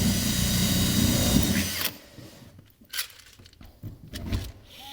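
A power drill driving rivets into an insulated metal clad panel on a garden room build, a loud sustained whir for about two seconds, then fainter clicks and mechanical rattles with short bursts.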